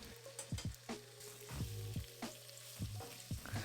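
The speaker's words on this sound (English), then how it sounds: "add your shrimp and stir fry." Shrimp stir-frying in hot oil in a wok over high heat: steady sizzle broken by repeated clanking scrapes and tosses of a metal spatula, close and fairly loud, with no voices.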